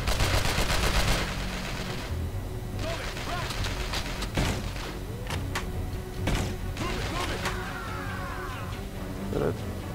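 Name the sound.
gunfire while shooting enemies in the video game Manhunter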